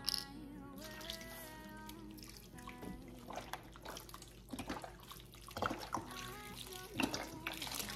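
Beef broth from cartons poured into a cooking pot, a steady trickling liquid stream running throughout with occasional splashes and clinks, fairly quiet over a constant background hum.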